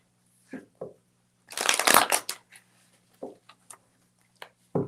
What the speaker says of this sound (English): Oh, card shuffle.